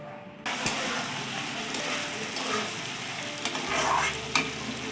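A spice mixture sizzles steadily in a hot pan while a spoon stirs and scrapes it, with occasional sharp clicks against the metal and a low hum joining later, heard close and without talk.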